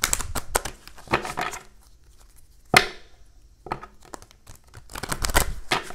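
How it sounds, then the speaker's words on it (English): Tarot cards being shuffled during a love reading, giving a few quick papery riffles and one sharp snap, with short bursts of card noise separated by quiet gaps. "Give it one more shuffle."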